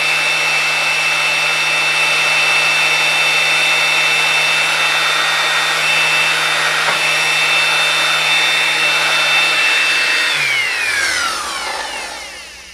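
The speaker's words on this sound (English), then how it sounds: "Really nice sander." DeWalt DWE6423 5-inch random orbit sander running steadily with a loud whirring motor hum and whine, close up, then switched off so the pitch sinks and the sound fades as it spins down.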